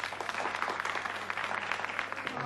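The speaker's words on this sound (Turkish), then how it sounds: "Alkışlarınızla." Crowd applause greets singers at a New Year's Eve television show, a dense, steady wash of clapping that fills the hall at moderate loudness with no talk over it.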